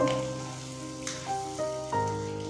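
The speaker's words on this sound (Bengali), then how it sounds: "ডিমগুলোকে আমরা উল্টে পাল্টে ভালো করে ভেজে নেব খুব বেশি ভাজবো না" Eggs sizzle softly in oil, with a few utensil taps over a steady tonal hum in the background.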